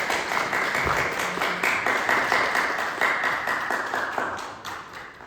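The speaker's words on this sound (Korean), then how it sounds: "축복하는 박수 드리겠습니다." Church congregation applauding together in a steady wash of many hands clapping, fairly close and even throughout, with no voices over it.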